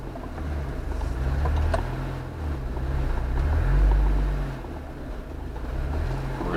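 A four-wheeler engine pulls up a trail climb in third gear, a close, steady low drone that swells and eases with the throttle, mixed with some wind rush.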